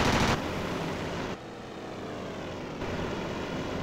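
A propeller aircraft flies by in a naval combat video game, a steady droning engine hum that shifts in level partway through, close and continuous with no talk.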